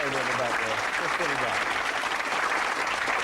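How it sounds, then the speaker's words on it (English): Dense, steady audience applause as volunteers come up on stage at a magic show, with a voice speaking over the clapping at the start. "And a big round of applause for all these gentlemen coming up there"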